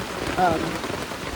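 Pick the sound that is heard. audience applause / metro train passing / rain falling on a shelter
rain falling on a shelter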